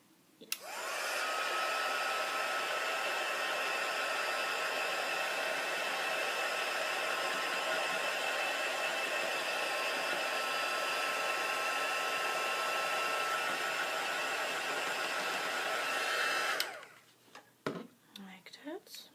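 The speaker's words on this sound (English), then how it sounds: "I'm just going to dry it because I don't want to smudge it." A hair dryer blows steadily for about fifteen seconds, drying chalky finish paint on a glass surface, a loud close whooshing drone that cuts off abruptly, followed by some handling clatter.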